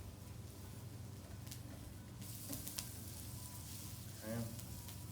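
Onions frying in a hot pan on a stovetop while steak is being cooked without a grill, a continuous close sizzle with a brief louder crackling burst near the end.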